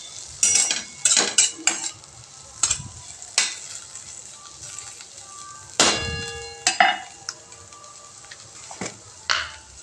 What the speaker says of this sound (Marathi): त्यानंतर शेंगदाण्याचं कूट टाकायचं आहे आणि ते पण छान तेलामध्ये परतून घ्यायचं